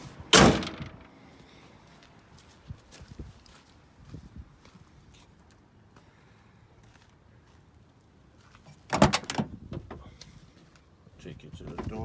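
Doors on a 1978 Ford F250 pickup with new zinc-plated hinges are handled, with a sharp loud door slam at the start and another near the end, separated by quiet shuffling and footsteps.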